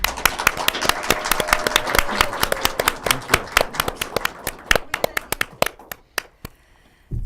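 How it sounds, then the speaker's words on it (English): A studio audience applauds actor Joseph D'Onofrio with dense, steady clapping that holds for about six seconds before thinning into a few scattered final claps. "let's give a really big round of applause for Joseph DOnofrio."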